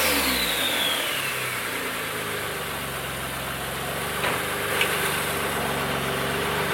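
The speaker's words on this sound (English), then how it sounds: "Come on, one rev. Get some turbo noises." Turbocharged Mitsubishi GTO engine running steadily close by, a sustained loud mechanical drone with a deep rumbling layer and a faint whine, with no voices and only brief small knocks late in the run.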